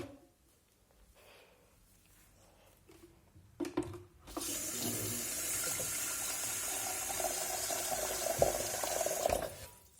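After a few quiet seconds, water gushes steadily from a tap into a pot, a loud continuous splashing rush that stops abruptly near the end.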